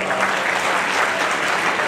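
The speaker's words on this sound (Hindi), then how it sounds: "तालियों की गड़गड़ाहट चल रहा है" An audience at a community political gathering breaks into dense, steady applause, many hands clapping together in a loud, even roar without a break.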